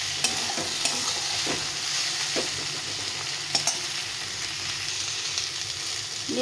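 Eggplant fries in a pan with cumin and chili powder, giving a steady, close sizzle with soft scraping stir sounds now and then and no voices.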